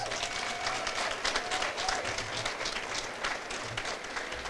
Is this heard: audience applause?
yes